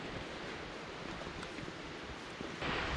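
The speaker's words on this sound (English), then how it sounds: "I'm just loving the sound of the wind through the leaves, and I can hear the falls" Steady outdoor roar of wind through leafy trees blending with the rush of the Aira Force waterfall near Ullswater in the Lake District, a broad continuous wash that swells slightly louder at the end, with no talking.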